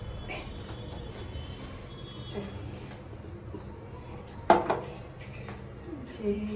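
A wok being set down among cooking pots and pans while bottle gourd leaf paste is prepared, giving one sharp metallic clank over steady kitchen background noise, with a few fainter knocks after it.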